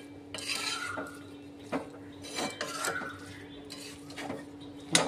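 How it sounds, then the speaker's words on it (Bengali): Shrimp and banana-flower mochar ghonto being stirred in a pan after garam masala goes in, with repeated scraping and clinking of a utensil against the metal in uneven strokes, close and fairly quiet, over a steady background hum. "এবার এটাকে ভালো করে মিশিয়ে নেব।"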